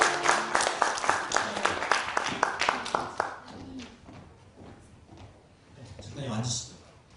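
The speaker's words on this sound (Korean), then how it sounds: "박수로 맞이해주시죠." An audience at a literary concert claps to welcome author Choi Jeong-hwa, a brisk burst of close applause for about three seconds that fades out, followed by a host speaking.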